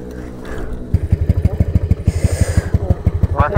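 A Yamaha NMAX scooter with a faulty engine and loose pulley puts out a loud, close, rapid pulsing engine beat that starts after a brief rough rumble, with voices in the background.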